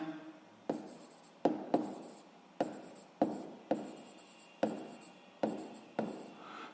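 A pen writes out a sixth-grade math exercise by hand in short, scratchy strokes, about nine bursts in an even rhythm, close and clear with no talking.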